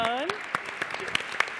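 An audience at a food innovation day event begins to applaud, a few scattered claps rising as a voice is still speaking at the start.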